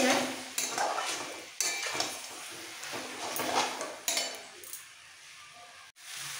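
Chicken pieces stirred and sautéed in a pan for a green spinach chicken dish, with repeated spatula scrapes and clinks against the metal over a low sizzle, close and fairly loud.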